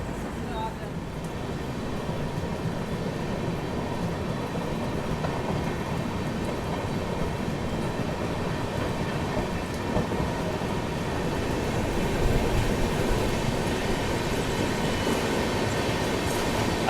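Steady, dense rumble and rattle of the Darjeeling Mail, hauled by a WP7 locomotive, picking up speed as it leaves a station, heard from inside the train as a continuous roar.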